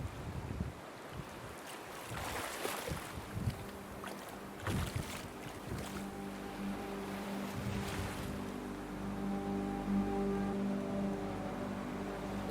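Water laps and washes along the River Thames in London while a boat passes, with wind buffeting the microphone and a low engine hum that builds toward the end, and no voices.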